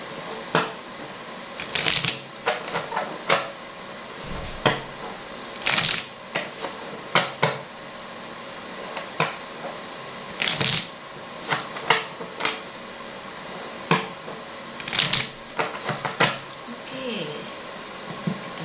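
Tarot cards are repeatedly shuffled and slapped down in crisp, irregular bursts, with quiet talking underneath.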